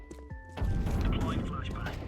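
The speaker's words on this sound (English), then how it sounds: "Deploying flashbang." A flashbang grenade goes off in a game with a sudden heavy blast that turns into a sustained loud rumble. A synthetic voice speaks just before it and again over the noise.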